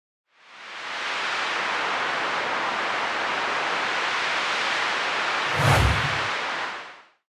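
A gust-of-wind sound effect portrays a wolf blowing: a loud, sustained hiss of rushing air swells in, peaks in a brief, stronger, deeper blast near the end, then cuts away.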